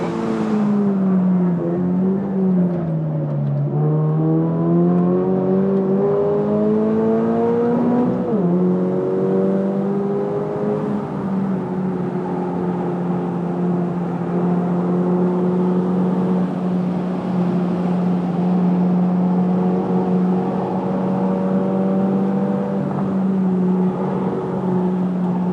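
A 2022 Subaru BRZ Limited on a race track, its engine droning steadily with rising and falling pitch through heel-toe downshifts and throttle blips, heard continuously and fairly close without talk.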